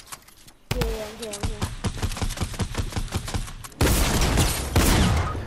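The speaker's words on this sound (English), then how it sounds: "I'm taking the minigun out." Minigun fire in the Fortnite video game, a dense, rapid rattling burst that rolls on for several seconds and swells louder near the end, with a voice heard early on.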